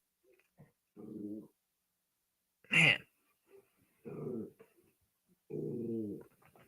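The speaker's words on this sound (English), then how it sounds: "Dogs are about to get real loud right now." Dogs indoors give short bursts of growling and whining around one sharp, loud bark, with quiet gaps between them and a voice briefly heard.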